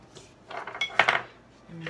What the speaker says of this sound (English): I'm going to scrape out my container.